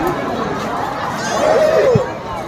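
Dense crowd babble at the Sangam during Mahakumbh 2025, many overlapping voices and footsteps in a busy open riverside bathing area, swelling slightly midway; a nearby voice speaks over the murmur.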